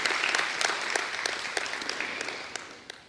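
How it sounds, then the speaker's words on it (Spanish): Moderately faint applause from a church congregation, a dense patter of many hands clapping steadily and gradually tapering off toward the end. "Y quiero darles un aplauso al Señor"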